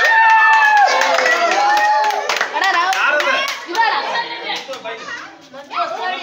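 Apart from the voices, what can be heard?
audience applause at a school birthday celebration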